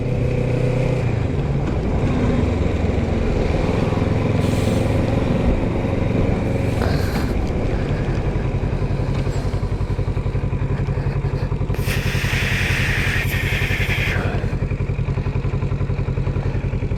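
Motorcycle riding in the rain, a loud continuous engine drone with wind and road noise close by, brief bursts of hiss and clatter partway through, no talk.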